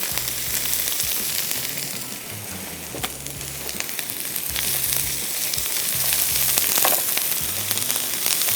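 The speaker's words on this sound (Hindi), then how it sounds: "बाय द टाइम ये अदरक लहसुन इसमें फ्राई होगा तो प्याज भी मुकम्मल तौर पे फ्राई हो चुका होगा" Ginger, garlic and onion fry in a pan for chicken with capsicum, giving a steady loud sizzle with a broadband hiss and low crackle, and occasional stirring scrapes throughout.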